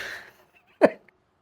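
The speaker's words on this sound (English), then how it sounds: "Pardon me, I'm gonna burp." A single short, close burp from a man, sounding once after a faint breath and then leaving near silence.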